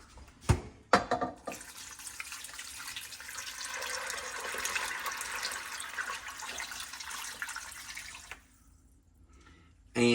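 Water runs steadily into a slow cooker holding dry white beans and a ham hock, a continuous close pour lasting several seconds after a few sharp clanks at the start, then it stops.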